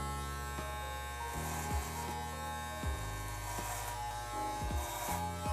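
Electric hair clippers buzz steadily and close by while cutting hair for a fade, with brief dips in the drone as the blade shifts against the head.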